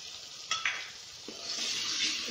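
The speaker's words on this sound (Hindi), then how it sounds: "अब इसमें हम टमाटो प्यूरी डाल देंगे" Tomato puree going into a hot pan for an aloo soya bean curry, a soft sizzle rising after a couple of light clinks from a utensil, then steady frying hiss with gentle stirring.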